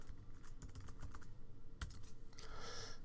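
Quick, irregular key clicks from a computer keyboard as a password is typed, close and fairly quiet, with a brief louder keystroke cluster partway through and no talking.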